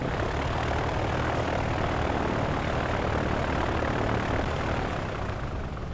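Steady, loud aircraft engine drone at an aviation museum filling the whole stretch, a broad propeller-like roar that holds constant and eases off slightly near the end.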